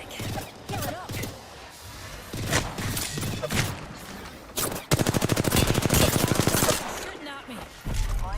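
Apex Legends gunfire: scattered single shots and short bursts early on, then a long rapid automatic volley, loud and close, with a voice talking in between.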